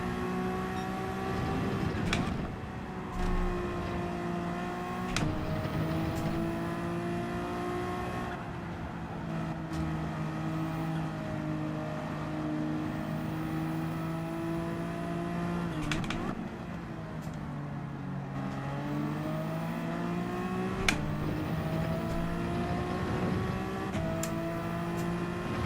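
Group 3 race car engine in Gran Turismo 7 at Fuji International Speedway, a loud, sustained drone rising and falling through gear changes, with sharp shift blips and revving through corners.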